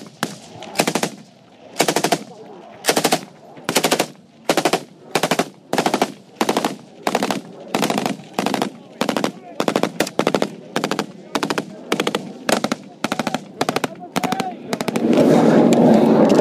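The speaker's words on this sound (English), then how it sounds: "They move under covering fire to regroup in a safer place." Sustained machine-gun fire from British soldiers giving covering fire in a firefight with the Taliban, loud repeated bursts in a steady rhythm for the whole stretch, ending in a dense roar of overlapping shots.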